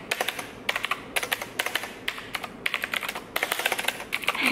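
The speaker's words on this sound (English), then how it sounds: "The main reason I'm doing this video is to show off my keyboard." Typing on a LOFREE mechanical keyboard, fast bursts of crisp key clicks in an irregular rhythm with short pauses between runs, close and clear with no voices.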